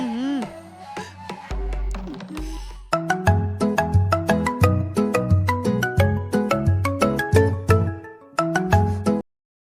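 A melodic electronic phone ringtone plays a repeating sequence of bright plucked notes, loud and close, with a short pause before the tune resumes.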